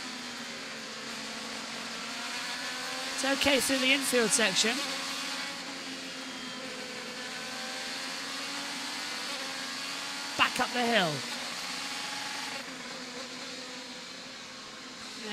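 On-board engine note of a Penske IndyCar during Laguna Seca qualifying, running rough and unhealthy uphill, a steady buzzing drone with brief rising gear-change sweeps, under commentators' talk.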